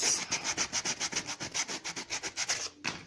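Sandpaper roughening a piece of leather in shoemaking work, heard as a steady run of about fifteen quick rhythmic rasping strokes, close and fairly loud, with no voices.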